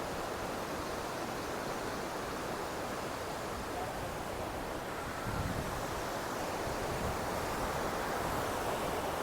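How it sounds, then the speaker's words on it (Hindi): Mountain river in Manali rushing over stones, a steady, dense broadband roar of water that continues unbroken and fairly loud throughout, with no talking. "धारा इसकी देखिए कैसे पत्थरों से टकराती हुई आगे बढ़ रही है।"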